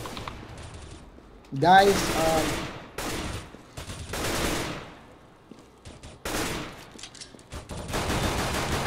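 Gunfire in CS:GO during a tournament semi-final, with rapid rifle bursts and single shots in several loud clusters separated by short pauses, while a caster speaks briefly over the action.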